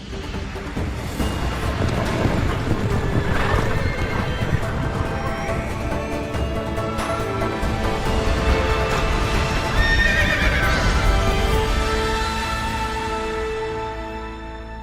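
Horses gallop and whinny in a video game, with steady clip-clopping hooves, repeated neighs and a continuous loud rumble throughout, with no talking.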